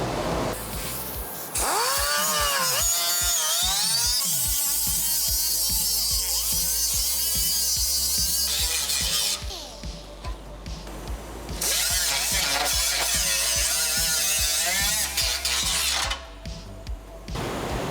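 A power sander whines steadily at close range, running in long stretches with brief pauses and changes in pitch as it sands a BMW E30 car fender.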